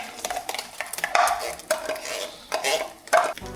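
A spoon scrapes and clinks in a pan as black pepper is mixed into food, giving irregular close stirring scrapes, some brighter metallic taps, and a faint sizzle underneath.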